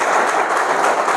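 An audience claps together during a lecture session on drug addiction and TB, a dense, steady wash of applause that stays loud and even for the whole moment.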